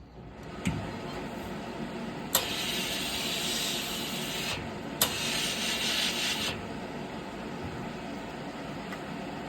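A steam iron presses the seam allowance of a tailored sleeve. Two long, quiet hissing bursts of steam are each marked by a soft knock, over a low background rustle.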